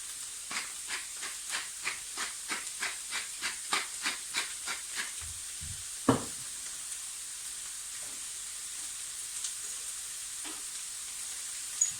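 Bolognese sauce with tomato puree cooks down in a pan, giving a soft steady hiss. Quick regular ticks and spits come at first, then fade into scattered pops, all quiet and close.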